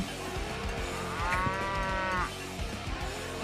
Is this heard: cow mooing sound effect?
yes